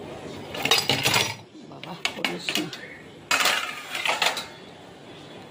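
Washed kitchen dishes and steel utensils are put away in clusters of clinks and metallic clatter with brief pauses between handfuls, close by, and a short spoken word is heard.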